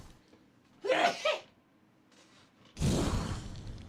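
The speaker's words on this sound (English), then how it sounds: "Gotta sneeze." A single person sneezes indoors: a sharp breathy intake around one second, a pause, then a loud explosive burst of the sneeze itself, close to the microphone.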